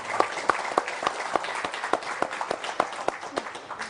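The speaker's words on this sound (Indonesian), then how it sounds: "Boleh tepuk tangan yang paling meriah?" Audience applause for visiting student guests at an Indonesian civic forum, heard as distinct, rhythmic claps in a steady beat, fairly close and loud, alone without speech.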